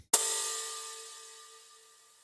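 A single sharp hit sent through a Supermassive delay with high feedback, modulation and a bright band-limited filter, swelling into a long, smooth, shimmering tail that fades steadily over about two seconds, with no voices.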